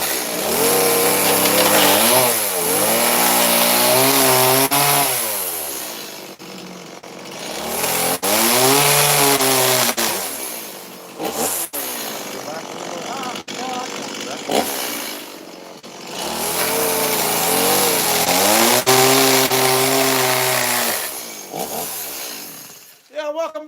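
Chainsaw carving a wooden bear, the engine revving up and down in long repeated surges with brief idle dips between cuts, loud and close throughout.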